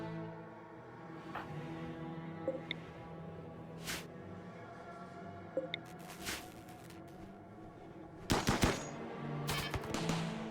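Turrets firing in the colony-building video game RimWorld, sharp isolated shots spaced out over a low steady background, ending in a quick rapid burst of several shots.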